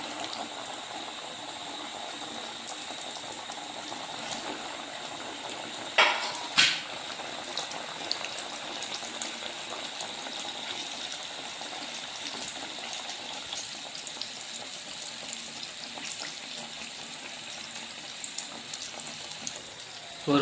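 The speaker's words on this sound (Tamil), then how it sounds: "இப்போ எண்ணெயில் எடுத்து போட்டுருவோம்." A village-style spiced mixture for goat liver or blood fry sizzles steadily in hot oil, a loud, continuous frying hiss with a brief burst of crackling around the middle.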